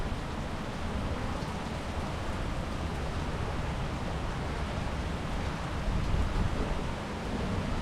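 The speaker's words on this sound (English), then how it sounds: "More rain. Starting to drip." Arizona monsoon rain falls steadily in a dense, even hiss that holds at a constant moderate level with no voices.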